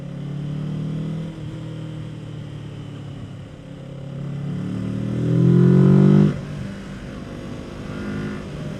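A Kawasaki Z650 motorcycle engine while riding on a road with gravel, with a steady droning hum that swells into a louder rev before dropping back to a cruising note.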